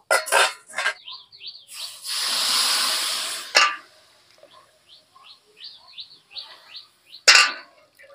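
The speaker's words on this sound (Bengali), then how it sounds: "এবার আমি পরিমাণ মতো জল দিয়ে দেব।" Three bowls of water are poured into a pot of potatoes fried with spices, a soft rushing splash lasting under two seconds, framed by clinks and clatter, with faint bird chirps in the background.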